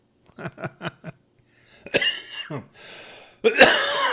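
A quick run of four short coughs, then a harsher fit of coughing and throat clearing, close and loud.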